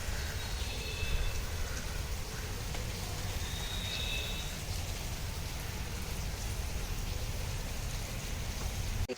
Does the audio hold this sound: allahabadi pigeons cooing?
no